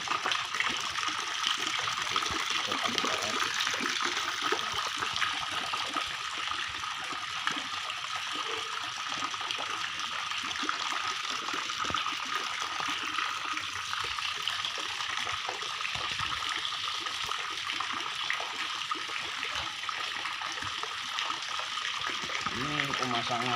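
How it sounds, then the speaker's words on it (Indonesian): Steady splashing and trickling of a water fountain aerator in a backyard fish pond stocked with catfish and tilapia fry, a continuous close wash of falling water with no pauses. "Ini pemasangan air pancuran ini, aerator ini"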